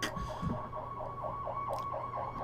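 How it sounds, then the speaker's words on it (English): An ambulance siren wails in a repeating rising-and-falling pattern, moderately loud and steady, heard from some distance with no speech over it. "There's the ambulance."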